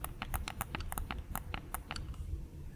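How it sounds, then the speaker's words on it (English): A run of sharp plastic clicks from the back buttons of a Manba One v2 game controller, about a dozen taps in an uneven quick rhythm, close up over a low background rumble. "the back buttons here sound like this."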